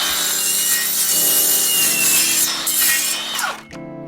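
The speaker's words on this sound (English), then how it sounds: "we'll cut that off on the miter saw" A miter saw cuts through UPVC window trim with a loud, continuous whining rasp that runs for a few seconds and then stops abruptly as the blade winds down, with no talking.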